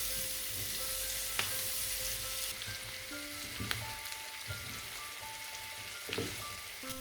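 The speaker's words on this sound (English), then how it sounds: "Fry the Brussels sprouts for 5 minutes until they start to caramelise a little." Brussels sprouts fry in a large frying pan with a constant crackling sizzle, punctuated by occasional sharper pops and light stirring knocks, moderately quiet and with no voices.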